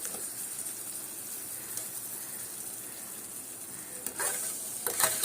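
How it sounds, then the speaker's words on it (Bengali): Sugar syrup for a sweet hog plum pickle bubbling and sizzling in a pan, a steady close hiss with a few brief bursts near the end, no talking. "চিনিটা গলে যাচ্ছে, কিন্তু চিনিটা গলে বুঝতে পারা যায় বেড়ে যাচ্ছে, ঘনত্ব ইয়েটা বেড়ে যাচ্ছে, ফুটছে টকবক করে ফুটছে"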